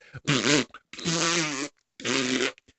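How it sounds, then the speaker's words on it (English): Three loud, drawn-out fart sounds in a row, each a buzzy, wobbling blast with short silent gaps between them. "You could hear him come just from his farts."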